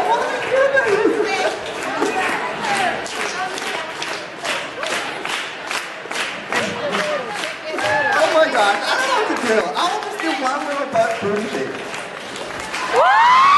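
A group claps hands in a quick steady rhythm amid lively chatter and shouts, with voices talking over the beat.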